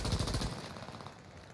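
A burst of automatic gunfire from a gun in Warzone, rapid rattling shots for about half a second that then fade into a decaying echo.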